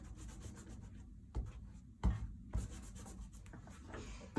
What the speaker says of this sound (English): So then I'm going to erase this.